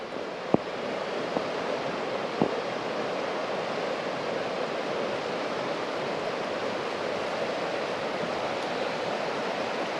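Strong rushing river rapids on the Sabattus River along a Maine walking trail, a steady broadband roar of churning water throughout, close and continuous, with a couple of faint brief clicks and no talk.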